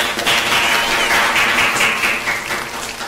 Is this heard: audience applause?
yes